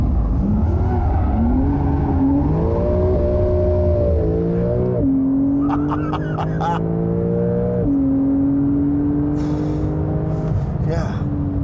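Porsche 911 accelerating hard on freshly fitted Pirelli tyres, a loud close engine note climbing through stepped gear changes, with tyre squeal and skidding chirps over the continuous roar.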